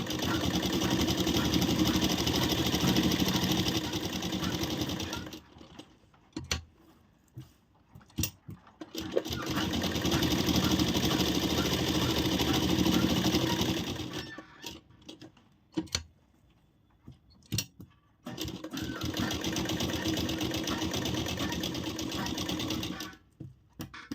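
A sewing machine stitches a blouse lining to its main fabric around all sides, humming steadily in three long runs separated by quieter gaps with handling noises, close and loud.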